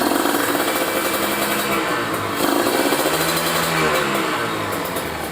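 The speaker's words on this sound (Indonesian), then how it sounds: "Kita tarik bentaran ya gasnya ya, sampai RPM 6 atau 7000 aja." A Kawasaki Ninja RR two-stroke motorcycle engine is held at high revs around 6000 to 7000 RPM, a loud, continuous buzzing rasp that swells slightly and stays close.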